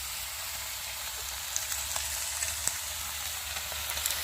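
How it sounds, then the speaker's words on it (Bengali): Oil pours into a hot pan in a home kitchen and starts to fry, giving a steady sizzling hiss with scattered small crackles and pops, close and moderately loud. "মা এখন দেখো তেল ঢালছে"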